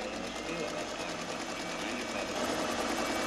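A sewing machine runs in a horror film scene, a steady rapid mechanical whir that stays constant and fairly faint throughout.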